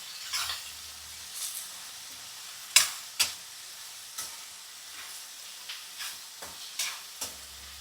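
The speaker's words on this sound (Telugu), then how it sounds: "కరివేపాకు, పచ్చిమిర్చి, ఆనియన్స్, ఆలు కొంచెం వేగిన తర్వాత ఇది కూడా బాగా వేగాలి." Potatoes, onions, curry leaves and green chillies frying in a pan for poha, with a quiet sizzle broken by occasional sharp scrapes and clacks of a spoon stirring at irregular intervals.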